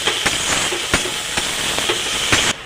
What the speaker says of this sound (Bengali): পেঁয়াজ ভাজার মধ্যে দিয়ে দেবো একটুখানি নুন, যাতে পেঁয়াজ ভাজাটা তাড়াতাড়ি হয়।